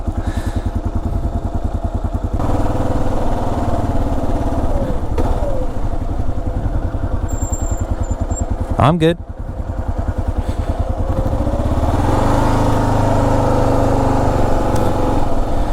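A Kawasaki KLR motorcycle engine idles and runs steadily throughout, a continuous low rumble close by, with a brief sharper burst near the middle while a voice speaks briefly over it.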